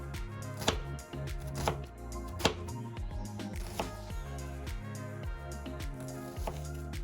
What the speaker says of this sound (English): cut them into slices